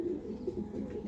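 A pigeon gives a short, soft, low coo, heard close and alone in a brief moment.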